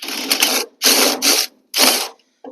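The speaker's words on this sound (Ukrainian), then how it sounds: "Маю гайковерта, хотів би залізти туди і воно себе відкрутилося." Powered impact wrench working on a homemade small tractor modelled on a John Deere, firing in three loud, close bursts with short silences between them and a brief fourth burst at the end.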